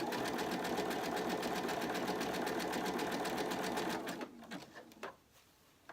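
A sewing machine zigzag-stitches around an appliqué, running steadily at a fast, even rhythm for about four seconds, then slows and stops, leaving faint handling sounds.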